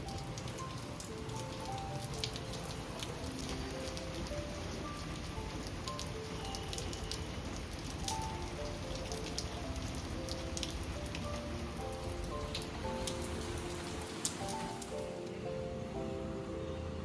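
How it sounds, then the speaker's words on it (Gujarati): Heavy rain pours outside a balcony, a dense steady hiss of drops with faint scattered bird calls over it, continuous and even throughout with no voices. "કેમ કે એકદમ વરસાદ આવતો હતો"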